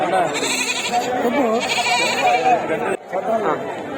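Goats bleating at the Kothagudem weekly goat market, repeated wavering bleats close by amid lively crowd chatter and voices, with a brief dip before the bleating resumes.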